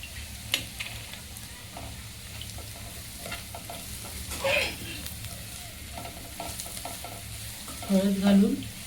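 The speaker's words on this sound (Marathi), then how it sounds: "छानपैकी कांदा हा एकजीव परतून घ्यायचा आहे" Browned onion with turmeric being stirred and sautéed in a pan, a soft continuous sizzle with occasional louder scraping stirs, close by.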